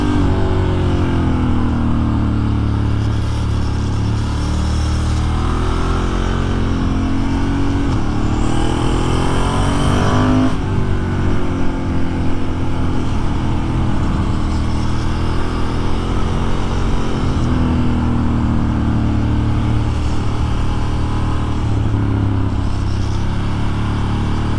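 A Ducati motorcycle rides through bends in the Ardèche countryside, its engine note loud and continuous, rising and falling as the rider accelerates and brakes, with constant wind rush and no talking.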